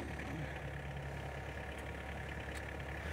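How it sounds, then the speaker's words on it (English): A compact hydrostatic tractor fitted with a post hole digger idles nearby, its engine giving a low, even rumble that holds steady throughout at moderate loudness. "you can back up or down easily with a hydrostatic tractor"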